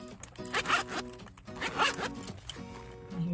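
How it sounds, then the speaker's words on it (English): Zipper of a woven, multicolored double-zip wallet pulled open in a few quick, close rasping runs, with brief pauses between strokes. "And lastly, we have these double zipper wallets."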